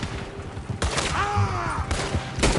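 Shots ring out in Red Dead Redemption 2 in a showdown with United States Army soldiers: three sharp, loud gunshots crack at uneven intervals over rumbling background noise, with a voice heard between them.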